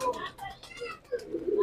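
Pigeons in a colorful breeding setup, some sitting on eggs, give soft cooing calls over roughly two seconds, with a louder, steadier coo near the end, while someone talks nearby.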